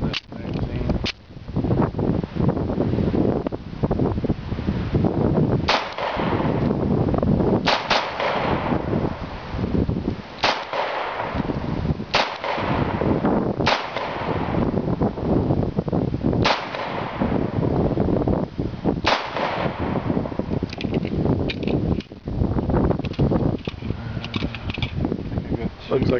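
Ruger P345 pistol fired in double taps at a shooting range: a series of sharp, loud broadband cracks, many arriving in close pairs, spread across the clip with range ambience between shots.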